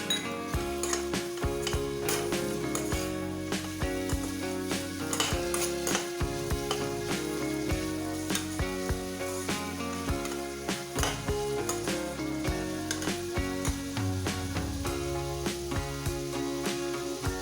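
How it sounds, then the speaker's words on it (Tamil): Chopped carrots sizzle steadily in a hot pan while a utensil scrapes and clinks against it now and then, close and continuous. "பொடியாக நறுக்கின கேரட்டையும் இது கூட சேர்த்து ஒரு நிமிஷத்துக்கு நல்லா வதக்கணும்."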